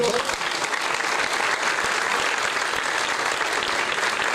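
Dense, steady applause from an audience at a women's football team launch event for Hatayspor, sustained and even throughout with no clear gaps.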